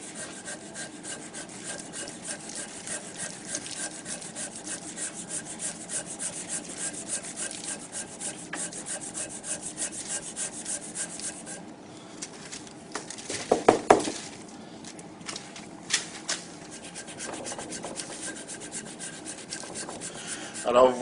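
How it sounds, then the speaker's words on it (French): A blade held flat scraping a surface straight, making steady rasping strokes that continue for a long stretch, then a pause and a few sharper scrapes and knocks, close and with no talk. "vous voyez comment je me sers du plat de ma lame pour faire une surface bien droite"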